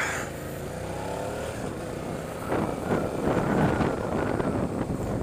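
Steady engine drone mixed with heavy wind rush, like riding a motorcycle down the road, rising slightly in loudness partway through.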